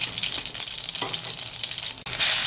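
Panch phoron and radhuni spices sizzle steadily in hot oil for a lentil dal, a continuous close crackling hiss that flares briefly louder at the very end.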